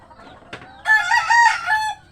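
A rooster crows once nearby, loud and drawn out, after a soft cluck from backyard hens.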